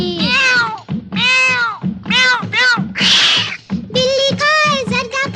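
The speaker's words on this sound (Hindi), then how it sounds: "चिट्ठी में से निकली बिल्ली" A cat meowing as a sound effect within a Bollywood children's song, several drawn-out meows in quick succession, loud and close over the music.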